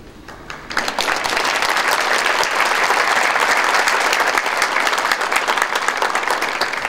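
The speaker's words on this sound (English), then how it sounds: "Please give them all a round of applause" Sustained, loud applause fills a St. Louis police department badge ceremony hall, rising quickly after a brief quiet start into a steady wash of many hands clapping with little talk.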